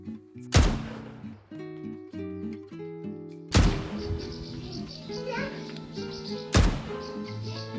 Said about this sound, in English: These are called foguetes. They are rockets fired into the sky.